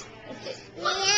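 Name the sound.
child imitating a cat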